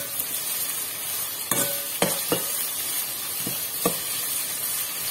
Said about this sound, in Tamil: கொஞ்சம் தக்காளி வதங்குறதுக்கு கொஞ்சம் உப்பு போடும்.